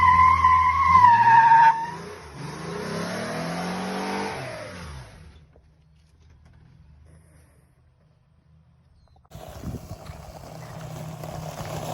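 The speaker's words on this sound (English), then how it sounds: "How's it feel driving in your truck, John?" A 1957 Commer truck cab on a D22 chassis revs and pulls away, its engine climbing in pitch and then fading. Quiet follows before another engine sound returns near the end, alongside a high tonal whine early on.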